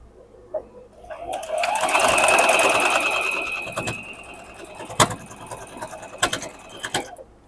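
A sewing machine runs a straight seam down the middle of a Tula Pink modern quilt block, a steady mechanical whir rising and holding for a few seconds, then trailing off into scattered clicks and handling noises.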